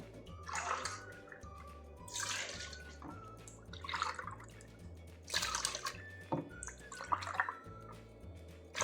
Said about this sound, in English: I'll add again 1 cup of heavy cream. The rest of 3 cups will be regular milk.